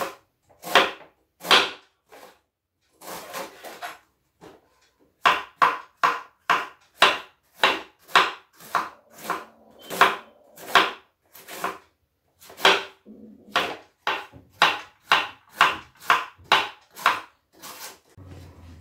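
A knife chopping cabbage for pakodi on a board, a quick series of crisp close cuts in rhythmic runs with brief pauses between them.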